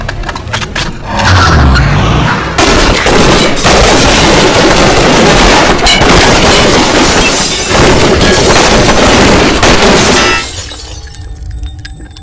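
Police gunfire aimed at a car during a terror attack, a dense, loud burst of shots and cracking impacts sustained for about ten seconds, then cut off into near silence.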